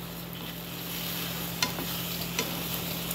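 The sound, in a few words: eggs being scrambled with a spatula in a pan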